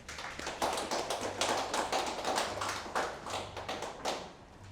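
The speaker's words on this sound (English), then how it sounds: "Please help me welcome him with a round of applause." An audience at an online masterclass applauds to welcome a cybersecurity speaker, a steady patter of many hands clapping close by for several seconds with no voices over it.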